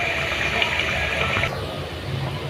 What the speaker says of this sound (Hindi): अब इसमें हम पानी शामिल कर देंगे